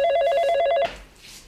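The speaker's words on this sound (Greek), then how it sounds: "Το τηλέφωνο." A telephone bell rings in a domestic setting, a loud, steady electronic trill pulsing rapidly for under a second before cutting off, leaving quiet room tone.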